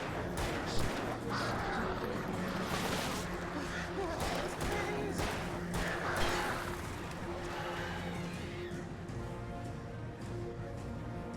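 Crows caw repeatedly in Alan Wake Remastered at Cauldron Lake, harsh calls rising over a steady game ambience with a voice talking throughout.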